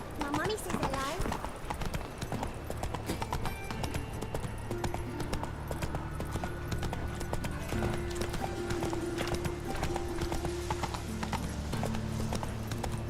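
Clip-clop of a horse's hooves in The Witcher 3 video game, a steady rapid galloping rhythm running throughout with music and voices beneath it.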